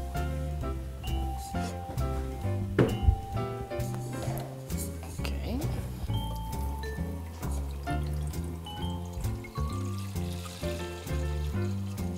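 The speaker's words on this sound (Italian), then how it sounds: "nel frattempo mettiamo l'acqua a bollire" Water pours steadily into a pot for several seconds to boil for tagliatelle, a continuous splashing trickle under steady background music.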